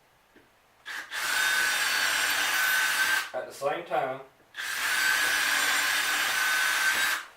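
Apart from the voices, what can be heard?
power drill drilling pilot holes in wood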